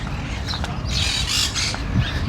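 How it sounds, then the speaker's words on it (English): Birds calling around a festival campsite near Malaga, with a few sharp, squawking calls that stand out clearly above steady outdoor background noise over a couple of seconds. "You can hear the birds still."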